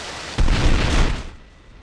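A heavy blast from a depth charge detonating underwater in a naval warfare submarine game, a sudden loud boom with a low rolling rumble that fades after about a second.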